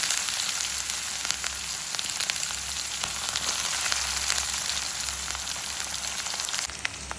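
Chopped onions fry in hot oil with mustard, fennel and fenugreek seeds, giving a steady, bright, hissing sizzle close up. There is no talk over it.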